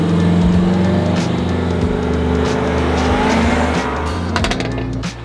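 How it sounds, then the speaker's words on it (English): BMW M5 accelerating hard up close, a loud, roaring engine note that climbs through gears with possible tire squeal, then tapers off at the end. "take that M5 for a rip. Sounds insane."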